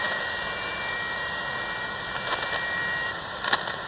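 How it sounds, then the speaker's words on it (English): End tone of a weather fax transmission picked up on a Sangean ATS 909 shortwave radio in a park: a steady continuous tone over broad static hiss, with a couple of brief crackles near the end. "That tone you hear at the end, that's the signal that the fax is done transmitting."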